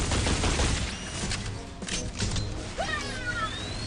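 Rivet gun fire in the Metal Arms: Glitch in the System video game comes as rapid bursts of sharp shots over busy game noise, with whining effects near the end.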